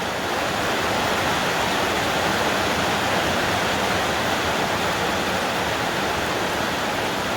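Heavy rain pours down in a loud, unbroken hiss of broadband noise, constant and close throughout with no voices or distinct drops standing out.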